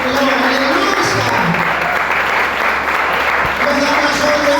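A church congregation applauds the Lord in a steady, loud wash of clapping that fills the room, with voices mixed in beneath it.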